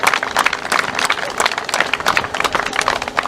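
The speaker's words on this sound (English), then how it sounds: "So just a quick round of applause for the officials for all the work" An audience at a college hurling final applauds the match officials, brisk irregular clapping from a crowd, close and fairly loud, with a busy uneven rhythm.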